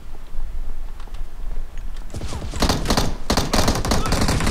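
Dense automatic gunfire bursts out in the mobile battle-royale game PUBG Mobile. Quiet game ambience opens, then rapid, loud volleys of shots crowd the second half.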